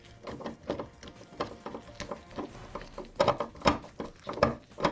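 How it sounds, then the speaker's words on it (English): A screw being driven into an Insignia swivel TV stand, heard as a close series of irregular ratcheting clicks and wooden creaks that grow denser and louder toward the end. "Screwing this one down."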